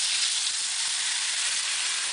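Pot stickers hiss and sizzle hard in a hot frying pan after water is poured in, a steady, loud, dense steam-and-frying noise throughout with no talking.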